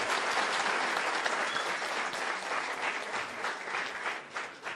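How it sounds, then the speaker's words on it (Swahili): An audience at a fundraising event for a football club applauds its coach, a dense burst of sustained clapping that stays loud and then thins slightly toward the end, with no speech over it. "Tupatieni coach makofi."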